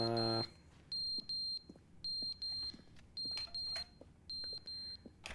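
Electronic beeping from the video game The Stanley Parable: Ultra Deluxe, a long tone followed by steady pairs of short, clean beeps repeating at an even rhythm, fairly prominent over a quiet background.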